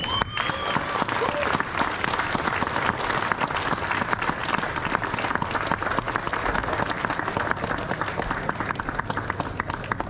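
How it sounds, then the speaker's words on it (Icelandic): An audience at a youth trades and careers fair gives a loud, steady round of applause for the winner of a welding competition, dense clapping sustained throughout with no letup. "Gefum keppendum í málmsuðu öllum gott klapp."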